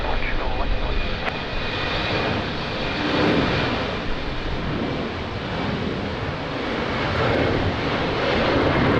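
An aircraft departs from runway 20 at Lisbon Airport in strong crosswind, its engines producing a sustained loud roar and rumble with wind buffeting, while radio-style talk continues over it.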